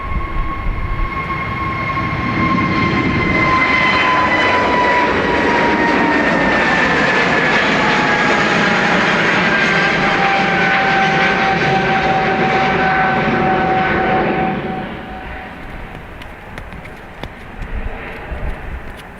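Qatar Airways flight QR18, a jet airliner departing Dublin Airport for Doha, builds into a loud, sustained engine roar with whining tones that slowly fall in pitch, then fades away near the end, leaving faint background noise.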